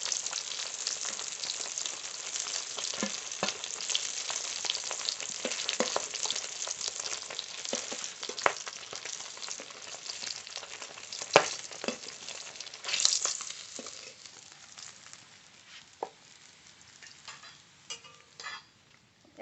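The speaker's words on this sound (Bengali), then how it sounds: "একইভাবে এই মাছগুলোও ভেজে নেব" Fish frying in hot oil, a continuous bright crackling sizzle with scattered pops and spits, fairly close and alone without any talk.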